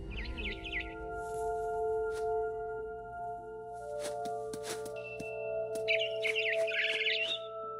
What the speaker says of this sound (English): I heard chirping outside my window. It was a barn swallow going back to her nest.